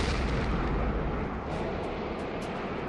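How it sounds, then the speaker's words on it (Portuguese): A missile detonates near an F-4 Phantom jet in an air battle, a loud, dense, rumbling blast roar that fills the sound, sustained and heavy, with faint crackling on top. "O míssil detona próximo ao Phantom de Hawkins e a nave treme com a explosão."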